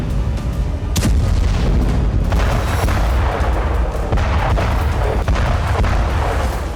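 Artillery shell fire in the war in Ukraine, heavy booms and sharp reports recurring across the stretch over a dense, loud rumbling background, with no voices.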